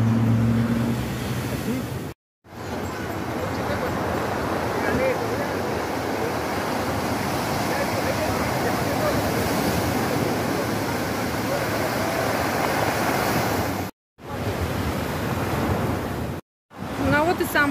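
Ocean surf breaks continuously on a rocky beach in Miraflores, a steady loud wash of waves with brief cuts in the sound.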